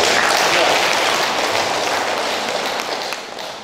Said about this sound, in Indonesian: kita tepuk tangan buat para guru